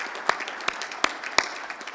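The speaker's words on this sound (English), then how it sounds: "Let's give him a round of applause, too." At a water-plan convention, an audience gives a round of applause, heard as a few sparse, fairly faint claps spaced out over a quiet room.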